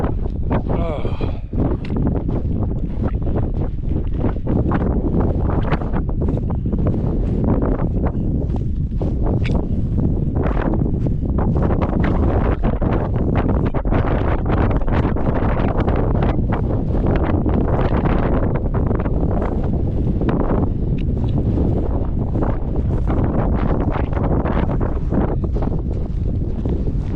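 Strong, continuous wind buffets the microphone on an exposed mountain traverse, a loud, steady roar with gusty rumbling throughout and no clear speech.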